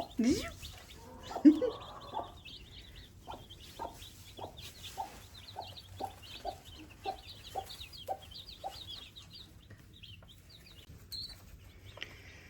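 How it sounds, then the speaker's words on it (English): Baby chicks peep under a broody hen in a steady stream of soft, high chirps, with low clucking and a person talking quietly nearby. "All the little chirps."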